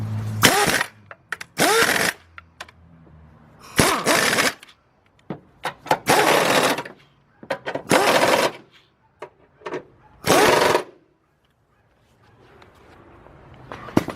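A mechanic tightens bolts with a 15mm socket during a timing chain replacement on a GM four-cylinder (Chevy Malibu, Cobalt, Pontiac Grand Am, Sunfire, Saturn L family). Six loud, separate bursts of power-tool rattling are each about a second long, with quiet gaps and faint clicks between them.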